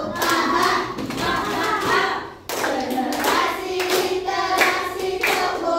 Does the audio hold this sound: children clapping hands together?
yes